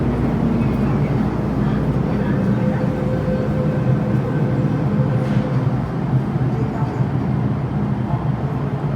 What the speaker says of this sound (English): Alright, another M train.